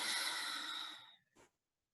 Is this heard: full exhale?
yes